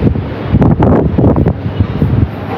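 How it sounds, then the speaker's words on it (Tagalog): Strong gusts of wind on a 45th-floor rooftop deck buffet the microphone with heavy, rumbling roars that surge and ease over a few seconds. "kapag nandito kayo sa mas mataas na elevation, mahangin talaga"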